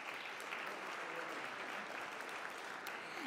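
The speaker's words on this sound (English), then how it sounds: "Let's give her a round of applause." Audience at a conference giving a round of applause, a steady, even patter of many hands clapping that fills the whole short stretch at moderate distance.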